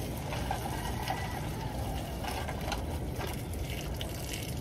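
Strong floodwater rushing steadily past a building, a dense, continuous loud roar of flowing water with no break.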